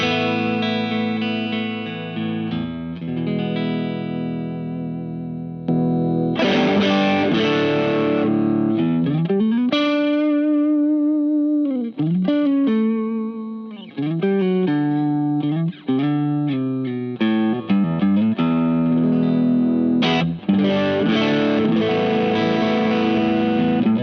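Fender Elvis Costello Jazzmaster electric guitar with Brearley vintage-voiced pickups, played on the neck pickup through a Fender HammerTone Overdrive pedal at lower gain, with sustained chords and single-note lines, loud and continuous, with no talking.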